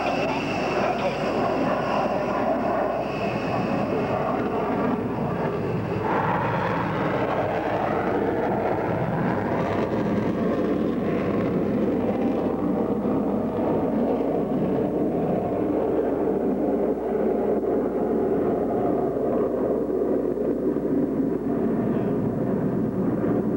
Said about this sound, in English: The B-1B on the takeoff.